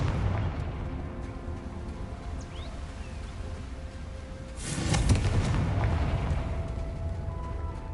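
A Confringo fire spell bursts in the video game Hogwarts Legacy, a loud, broad explosive boom that hits midway through the clip over a steady ambient rumble and then trails off into a lingering roar.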